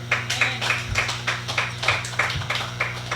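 A church congregation claps in praise, a sparse, rhythmic pattern of individual hand claps landing at a steady beat rather than a dense ovation, with a low hum running underneath.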